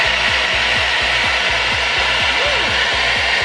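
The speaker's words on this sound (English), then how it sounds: "so it is pretty loud, just like a regular hair dryer" An InStyler 7X smart hair dryer runs with a loud, continuous airy whoosh up close, accompanied by a faint rhythmic low rattle.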